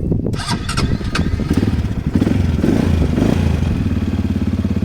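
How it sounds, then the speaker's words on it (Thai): A 200cc ATV engine runs up close at a steady idle, with a dense, even mechanical chugging and a brief clatter near the start, heard with no talking. "ฟังเสียงเครื่องยนต์กันครับ"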